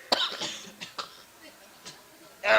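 A few short coughs spread out, one sharp cough at first then softer ones, close by and not very loud.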